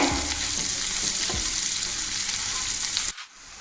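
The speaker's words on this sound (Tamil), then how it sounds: "வெங்காயம் போட்டுக்கலாம். வெங்காயம் இப்படி பொடி பொடியா கட் பண்ணி வச்சுக்கோங்க. நல்லா மிக்ஸ் பண்ணிடுங்க." Finely chopped onions fry in a hot pan in a home kitchen, giving a loud, close, continuous sizzle broken by scraping spoon strokes, before the sound drops away abruptly near the end.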